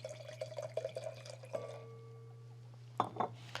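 Argentinian Malbec red wine, aged in an oak barrel, poured into a glass: a close, dripping liquid trickle with faint clinks against the glass, stopping midway and followed by a few short splashy sounds, under a steady low hum.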